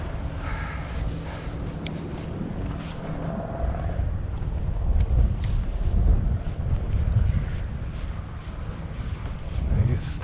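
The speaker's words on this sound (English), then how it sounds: "There's that wind over here." Wind gusting over open water at a cold autumn bass-fishing spot, a steady low roar with buffeting microphone noise that swells midway, alone with no talk.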